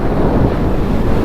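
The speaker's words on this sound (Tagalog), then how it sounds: "Sarap ng hangin." Strong wind roars steadily and buffets the microphone on a road in Nagilian, La Union, Philippines, loud and continuous with no other sounds.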